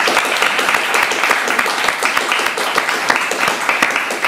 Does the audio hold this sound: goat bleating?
no